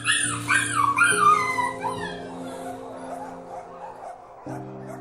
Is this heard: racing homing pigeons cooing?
no